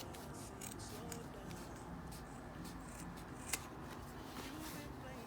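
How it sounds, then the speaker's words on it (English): Scissors cut through vintage Levi's denim jeans to make cut-off shorts, producing soft, close snips and a crisp click against a quiet background. "And then I'm just gonna use that to guide my way down. And just cut along that same line."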